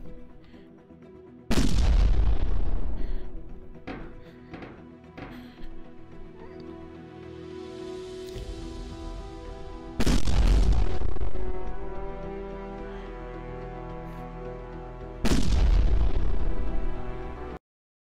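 Three heavy explosions boom in a space real-time strategy game, StarBlazer VR, each a sudden loud blast fading into a long rumbling tail, with electronic game music underneath.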